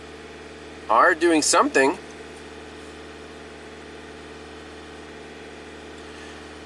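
Hyundai engine held steady at about 2200 RPM while running rich, a constant mid-low hum with a brief burst of speech near the start and then the drone continuing alone.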